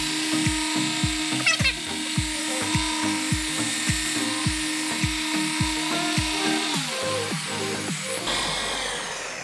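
A Flex XCE 10-8 random orbital polisher hums steadily with a regular pulsing wobble and periodic rubbing strokes against the surface, close and fairly loud, then winds down near the end.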